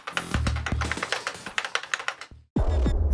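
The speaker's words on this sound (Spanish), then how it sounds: "el teclado funciona correctamente y además tiene ese característico sonido de máquina de escribir" Rapid clattering keystrokes on a mechanical keyboard with a typewriter-like sound, close and crisp, in an irregular burst that breaks off briefly and then resumes.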